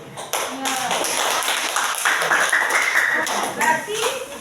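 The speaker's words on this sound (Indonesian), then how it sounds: "tepuk tangan kelompok 4" Classroom applause for a student group, a lively burst of hand clapping that starts sharply and carries on for several seconds, mixed with scattered voices and a few higher calls among the group.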